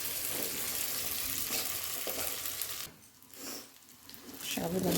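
Sabudana (sago) frying in a tempering with curry leaves, turmeric and salt, a steady close sizzle with stirring that drops away briefly midway, then returns loudly.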